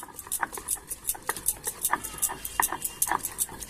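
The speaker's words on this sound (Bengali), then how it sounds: "এবার আমি এখানে মশলা, মাঝারি সাইজের 2টো পেঁয়াজ, 5 কোয়া রসুন আর একটু আদা একসঙ্গে বেটে নিচ্ছি" Rhythmic scraping and knocking of stone grinding as two medium onions, five garlic cloves and a bit of ginger are crushed into paste, close, quick repeated strokes alone without talk.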